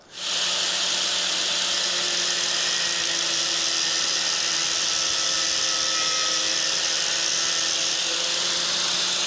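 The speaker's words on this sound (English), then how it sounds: "Let's chop them to length." PVC-coated brake lines are cut to length with a power tool that gives a steady, loud, continuous whirring grind, running without pause from start to finish.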